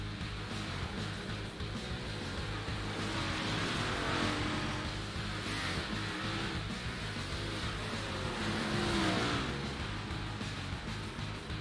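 Race cars on a dirt track in a sim racing game: a steady, dense engine drone from several cars, swelling and easing as they circle, with no breaks throughout.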